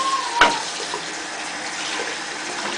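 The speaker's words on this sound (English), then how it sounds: "I rinse out the filter by squeezing it out." Water from a tap runs steadily while an aquarium sponge filter is rinsed and squeezed out during a 10 gallon tank water change, with a brief splash near the start and a constant close flow after it, no talk.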